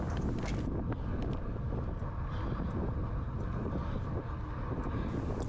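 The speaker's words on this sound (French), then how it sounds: "toujours vent de face" Steady, loud headwind buffets a racing cyclist during a time trial in Bonifacio, a continuous low roar of wind noise with no other sound.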